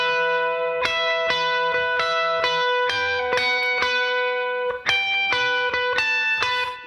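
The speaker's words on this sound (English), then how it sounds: "You might then do the lead part with a bit of distortion on" An electric guitar plays a lead line with distortion and effects: a steady run of sustained, bright notes, each struck cleanly and ringing into the next, loud and close with no talking.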